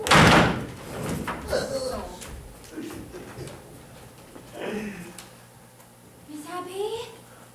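A door bangs loudly at the start, followed by scattered knocks and thumps. People talk in short lines over the quieter indoor background.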